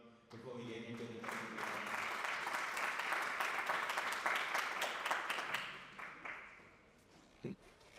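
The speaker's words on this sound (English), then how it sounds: "quick round of applause for everyone" An event audience at a presentation gives a dense burst of applause that swells quickly, holds steady, then tapers into a few final claps, with a voice speaking briefly just before it starts.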